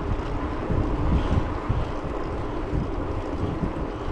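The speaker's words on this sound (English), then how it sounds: "With the headwind though" Steady, loud wind buffeting across the microphone while riding an electric bike downhill into a headwind on a Nebraska highway, a continuous broadband roar with low gusty rumbles throughout and no talking.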